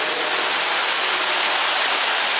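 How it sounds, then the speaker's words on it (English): Water streams off the waxed surface of a 1982 Suzuki GS1100E motorcycle, a loud, continuous rushing hiss like a hose spray, steady throughout with no voices. "If you look at how the water comes off of that, that is pretty impressive"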